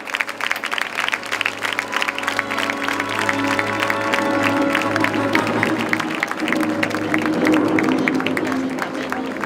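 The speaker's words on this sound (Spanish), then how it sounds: "Un aplaudiment per ells." A crowd applauds steadily for several seconds, dense clapping filling a room with a faint murmur of voices underneath, at a town festival proclamation event in Blanes.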